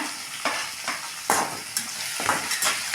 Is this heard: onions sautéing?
yes